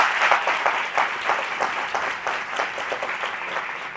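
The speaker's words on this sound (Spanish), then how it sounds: "Qué aplauso merece." Lively crowd applause at a book event, a steady wash of many hands clapping fairly loudly and close with light rhythmic pulses, no speech over it.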